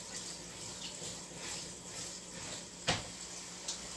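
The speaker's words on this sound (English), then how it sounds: "right now I'm just running cold water on it" Cold water streams steadily from a kitchen tap, a soft continuous hiss with a couple of brief clinks or splashes partway through.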